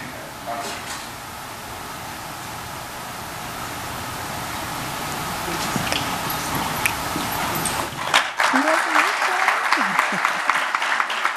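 Audience at a graduation ceremony breaks into sustained applause, a dense wash of clapping that swells louder and brighter toward the end, with cheers and whoops rising over it in the final seconds.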